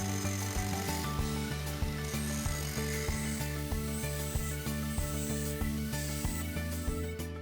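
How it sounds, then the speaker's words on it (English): An angle grinder sharpens a lawn mower blade, running as a steady, loud, continuous whine with regular rhythmic pulses as the wheel works along the edge. "when using your angle grinder to sharpen the blade"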